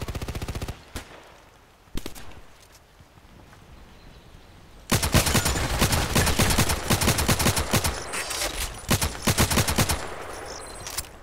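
Gunfire in the shooter game Contract Wars: a rapid burst, a lone shot, then a long dense stretch of loud automatic fire with overlapping shots, near and sharp.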